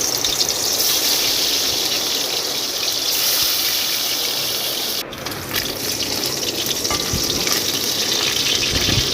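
Loud, continuous sizzling of hilsa fish frying in hot oil in a wok, a dense crackling hiss close by that runs steadily throughout.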